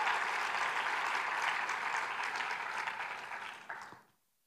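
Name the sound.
congregation applause in a church service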